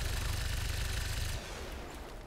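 Rapid sustained gunfire in the video game XCOM 2 shredding an enemy's armor, a dense continuous burst that cuts off abruptly, leaving a quieter rumbling tail.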